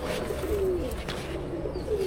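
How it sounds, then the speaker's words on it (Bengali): A high flyer pigeon coos softly in a low, steady murmur over about two seconds, with no talking. "এটা হাই ফ্লায়ার কবুতর একটা, বাসার উপর উড়বে এই পর্যন্ত।"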